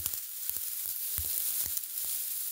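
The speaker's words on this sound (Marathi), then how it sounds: "हे बघा मी थोडी मोहरी असल्यामुळे अशी हाताने चोळते" Dried mustard pods rubbed by hand on a spread sari cloth, giving a soft, close crackling rustle with scattered sharper crunches and brief pops.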